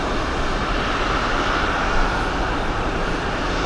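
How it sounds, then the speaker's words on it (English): Boeing 747 airliner engines at JFK airport, a steady, loud broadband roar that holds evenly throughout without breaks or voices. "747 on its way."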